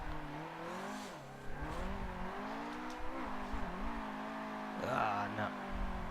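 In Forza 7, a Nissan S15 drifts with a strained, underpowered engine note that rises and falls through revs. Faint tire noise sits beneath it, and someone talks over the engine.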